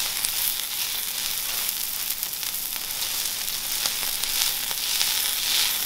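Cabbage okonomiyaki sizzles on a griddle, a continuous bright, hissing fry that stays even and close throughout, with no voices.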